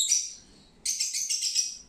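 Pet lovebirds chirping close by, a rapid run of high, bright tweets, a brief lull, then a louder, denser burst of overlapping chirps, with no talk.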